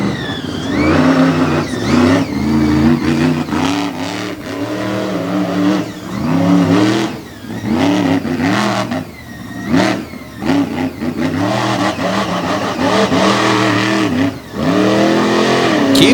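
A dirt track race car on an Eddie chassis accelerates hard on a muddy oval, its engine revving loud and close with repeated rising and falling pitch sweeps as the throttle is worked through the corners.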